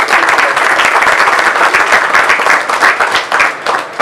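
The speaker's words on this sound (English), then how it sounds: "give yourself a round of applause for that" Loud, sustained applause from a crowd of bikers at a motovlogger subscriber meetup, dense steady clapping filling the whole stretch without a break.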